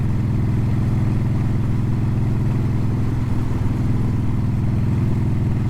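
A motorcycle with an Evo engine idling close by, a steady loud low rumble with an even throbbing beat and light mechanical clatter, unchanging throughout with no speech.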